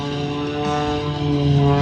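Propeller aerobatic airplane at an airshow, its engine droning steadily and loudly with a strong harmonic hum that swells slightly toward the end, no voices over it.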